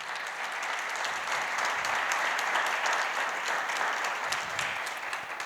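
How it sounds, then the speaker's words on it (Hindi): Steady audience applause at a religious gathering, a dense wash of many hands clapping at an even level throughout, fairly close and with no talk over it. "जोरदार तालियां बजाएं।"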